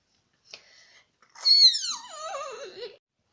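A voice imitating a sneeze as a high squeal: a short breathy intake, then a sharp rising shriek that wobbles downward and fades out, heard alone against silence.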